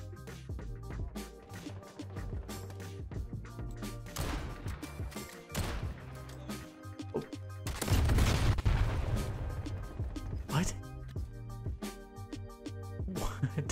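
Rapid video-game gunfire with a heavy explosion from a detonated C4 charge near the middle, busy and loud over a constant game soundtrack, with no talk.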